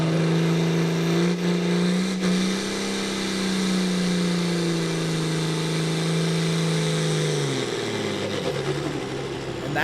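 A loud outlaw farm pulling tractor engine at a county fairgrounds tractor pull, holding a strained, steady roar that then drops away as the engine winds down near the end.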